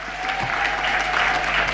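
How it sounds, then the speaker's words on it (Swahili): A seated audience at a Tanzanian government event applauds steadily, a dense, loud, even wash of clapping with no talk over it. "Tuwapigie makofi kwa mara nyingine"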